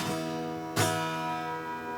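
An acoustic guitar note sustains, then a fresh pluck cuts in midway and rings on with a faint buzzy edge caused by a saddle problem, fairly quiet and alone.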